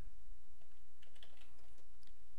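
Keystrokes tapping out code on a computer keyboard, a steady run of soft clicks at close range with no talking over them.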